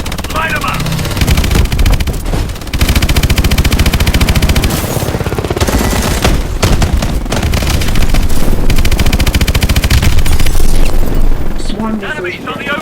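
Sustained automatic gunfire with explosions in a Call of Duty: Advanced Warfare battle, loud and nearly continuous for the whole stretch, with brief lulls and radio-style voices shouting over the shooting.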